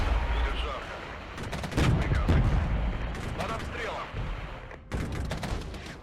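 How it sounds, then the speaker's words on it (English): An artillery barrage in the video game Regiments booms and crackles in heavy, rolling blasts and gunfire bursts, loud and dense, with short gaps between volleys and voices under the noise. "Right, artillery barrage."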